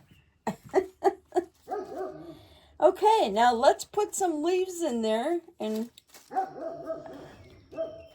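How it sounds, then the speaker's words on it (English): A dog barks a few times early on, short sharp yelps followed by more distant barking mixed under a person talking steadily nearby in a garden among cut flowers. "He's always barking at something."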